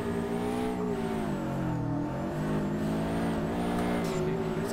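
Car engine drifting in the DRIFT21 racing game, played with wheel and pedals, holding a steady loud drone with a dip in pitch partway through, a continuous whine running across the top.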